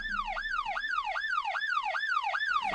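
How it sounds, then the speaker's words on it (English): A police siren sample used in music production wails in a steady, rapidly repeating rise-and-fall cycle, loud and clean with nothing else around it. "I use this sound a lot, so this police siren."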